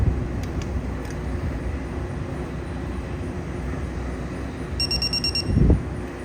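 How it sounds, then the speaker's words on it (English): A short electronic beep from a torque wrench while head bolts are tightened on a small lawn mower engine during head gasket replacement, brief high tone near the end over low workshop rumble. "Let it beep, go to the next one."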